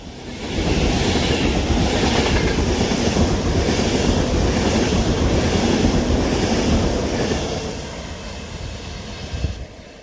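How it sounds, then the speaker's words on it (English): An Avanti West Coast Class 390 Pendolino electric train passes through a station on the West Coast Main Line at Runcorn, a loud sustained rushing roar with rail clatter that holds steady, then fades as it clears. "Now passing through is going to be another Avanti West Coast 390 Pendolino, 39125."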